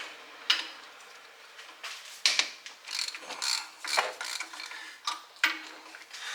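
A ratchet loosens 17 mm engine mount bolts on a 2003 Mitsubishi Galant 2.4L 4G64, making close, sharp clicking bursts in uneven strokes with short pauses between pulls.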